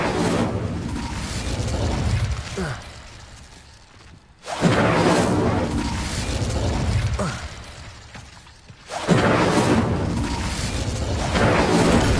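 Incendio fire spell cast in a video game, a loud whooshing burst of flame that swells and fades, repeating three times in long roaring waves with brief near-silent gaps between them.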